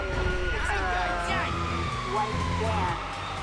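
Police sirens wailing during a chase in Grand Theft Auto 5, rising and falling tones mixed with game engine noise, moderately loud with a voice talking over them.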